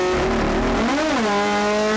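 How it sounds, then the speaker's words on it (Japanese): A Toyota AE86 race car at Tsukuba holds a loud, close engine drone in third gear, its pitch dipping and rising in a strained rev that will not climb freely. "でも3速じゃ吹けねえってば友田君。"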